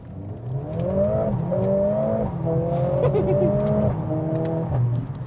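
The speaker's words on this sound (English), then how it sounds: "It just snaps through the gears." A car engine revs hard and climbs in pitch, dropping sharply at each quick gear change as it accelerates, loud and close throughout.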